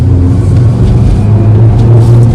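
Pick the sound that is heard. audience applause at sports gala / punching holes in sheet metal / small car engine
small car engine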